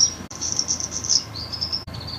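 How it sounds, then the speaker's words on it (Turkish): Outdoor nature ambience on a fine November day: a steady, high-pitched insect trill, like crickets, chirrs continuously and fairly close, briefly breaking off twice, with no clear birdsong. "Kuş ve doğa sesleri içinde çok güzel bir ortam."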